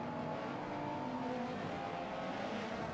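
Race cars in a touring car racing video game at Brands Hatch, engines revving together in a steady, dense drone that carries without a break.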